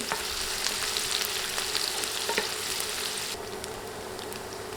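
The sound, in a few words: sliced onions frying and being stirred in oil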